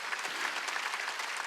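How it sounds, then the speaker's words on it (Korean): A congregation claps together during a Wednesday church worship service, a brief, even burst of applause at moderate level with no talking. "박수 치라야 돼요."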